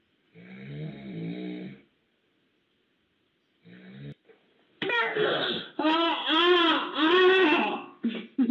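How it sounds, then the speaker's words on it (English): A man snoring heavily in short, rough bursts with pauses between, followed by an upset baby crying and wailing loudly up close. "This baby was upset because dad kept snoring."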